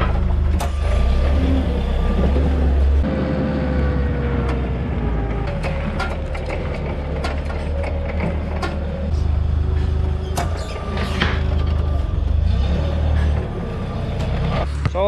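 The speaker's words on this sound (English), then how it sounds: "We don't own a forklift, but I'll grab one here." Forklift driven and worked around a dairy farm, a steady low engine rumble running throughout with repeated reversing beeps and clanks on top, close and loud, with brief voices now and then.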